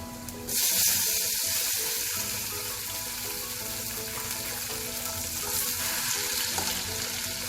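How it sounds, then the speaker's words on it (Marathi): Chopped tomatoes sizzle and fry in a pan with sautéed onions, a loud crackling hiss that bursts in as they hit the oil, then settles into steady frying with stirring, close up and with no speech. "कांदा परतून झाला की आपण त्यात टोमॅटो घालून चिरलेले टोमॅटो घालू आपण"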